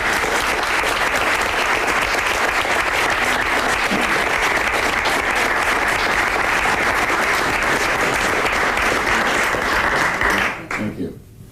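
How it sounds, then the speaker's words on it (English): Sustained audience applause after a talk on life under Jim Crow, a dense, steady wash of many hands clapping for about ten seconds before quickly dying away. "maybe we ought to give you a round of applause and say thank you"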